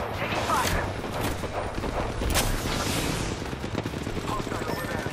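Dense video-game gunfire from Apex Legends, a steady crackle of rapid shots and bursts under a busy battle din, loud and continuous throughout, with a brief voice heard amid the shooting.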